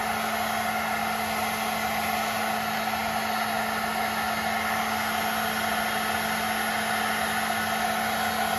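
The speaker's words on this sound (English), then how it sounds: "Leave the hairdryer running here." Hair dryer left running on low on a workbench during a clock movement cleaning, a steady close whooshing airflow with a constant motor hum and no variation, alone without talk.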